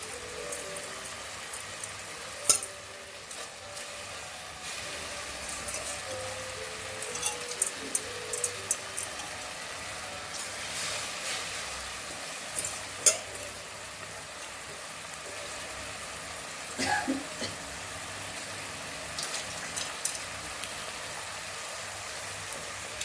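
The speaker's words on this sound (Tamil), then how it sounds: "அரிசி அதையும் ஒரு பெரட்டு பெரட்டிடணும்" Plain rice sizzles as it is stirred and fried in a pan for pulao: a steady, hissing crackle with intermittent spoon scrapes and taps close by, and no talking.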